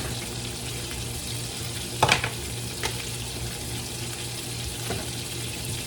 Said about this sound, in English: So this 2 tablespoons of butter is just about melted